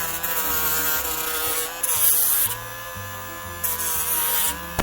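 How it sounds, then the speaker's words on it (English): Dremel rotary tool smoothing the edges of a handmade fantasy-food craft piece, a steady close whine that shifts pitch as the bit presses in and eases off, with no talking. "it's Dremel time"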